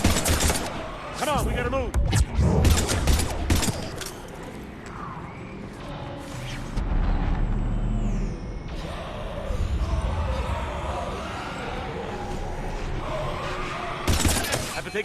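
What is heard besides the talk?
gunfire in the video game Mass Effect 3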